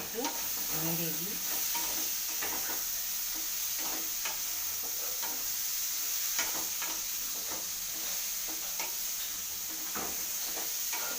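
Banana stem and prawns stirred in a pan just after the lid comes off, a steady hiss of sizzling under scattered soft scraping strokes, close and continuous without speech.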